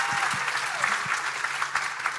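An audience applauds at a live panel event, a steady wash of many hands clapping with a few sharper individual claps near the start, no talk over it.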